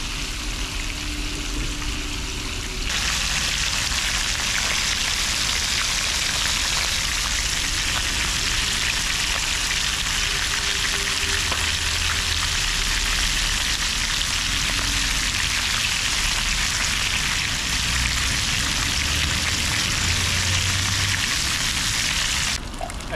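Mudfish (dalag) pieces frying in oil in a pan, a loud, steady, dense sizzle and crackle that runs unbroken from start to end with no voices.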